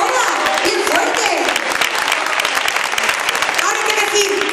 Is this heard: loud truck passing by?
no